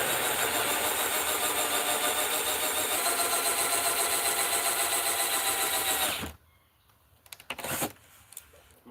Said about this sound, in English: and then I can drill from this side.